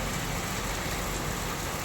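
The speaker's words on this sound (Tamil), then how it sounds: "ரம்மியமான இயற்கை சூழ்நிலையோடு அற்புதமான மழை" Evening rain falls steadily in an urban area, a dense, continuous hiss of drops on surfaces that is loud and even throughout with no talking.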